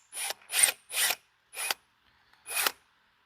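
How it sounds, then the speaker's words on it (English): A drill bit bores into a cast iron pump housing in five separate short bursts of harsh, gritty grinding with brief pauses between them, fairly close and with no talking. "Now we're going to be drilling through cast iron first, then we're going to be drilling through aluminum."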